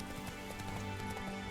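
Hooves of wild horses clip-clop in a steady trotting rhythm in The Witcher video game, moderately close, blended with continuous outdoor ambience and no talk.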